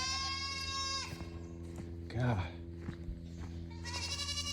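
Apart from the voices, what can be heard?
goats bleating at feeding time on a farm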